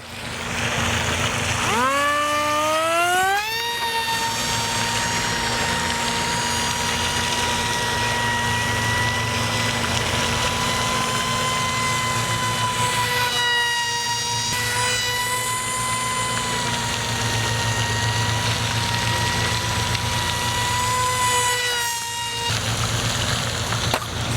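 A small remote-controlled model airplane flies in a light breeze, its electric motor whining steadily and rising in pitch during throttle-ups, passing near and away several times, with constant wind noise underneath.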